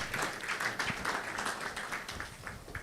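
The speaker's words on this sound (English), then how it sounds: "Let's give him a hand of applause" Audience at a leadership and business summit applauding a guest, steady clapping from a seated crowd at moderate distance, fairly quiet and continuous with no talk over it.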